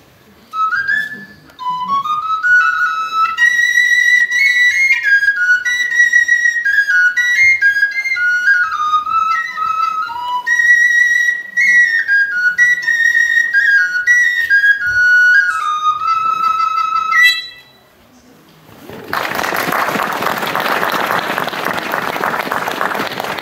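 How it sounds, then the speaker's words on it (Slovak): A six-hole shepherd's pipe made of elder wood plays a lively, bright folk melody at a folk ensemble performance in the High Tatras, carrying on continuously for many seconds before breaking off into loud audience applause. "takým najobľúbenejším pastierským nástrojom sa stala šesťdierková píšťala vytvorená z bazy"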